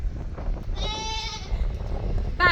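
A goat bleats once in a long, quavering cry over a rumbling farmyard background, followed by the start of another bleat at the end.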